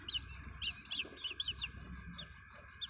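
Aseel chicks chirp in rapid, bright bursts close by, mixed with soft clucking from the small flock, with steady low background noise and no talking.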